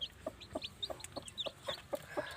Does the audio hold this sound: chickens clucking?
yes